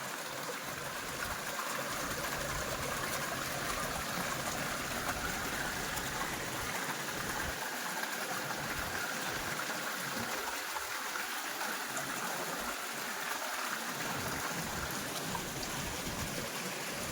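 Continuous rushing of a flowing stream near the source of the Kukadi river, steady and close, with a broad watery hiss and no voices.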